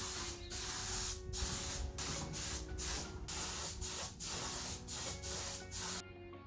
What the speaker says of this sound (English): then we'll give it another coat of paint